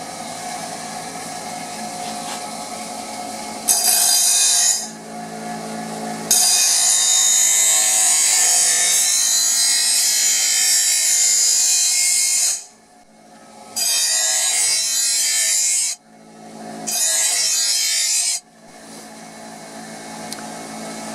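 A hand file rasps back and forth across a lawn mower blade to sharpen it, loud close-up strokes in long continuous runs broken by several short pauses, with no talking.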